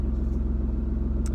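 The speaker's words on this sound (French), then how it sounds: "la voiture tourne bien" A BMW E36 drift car engine runs at a steady idle, a close, even, pulsing low rumble with a brief faint click near the end.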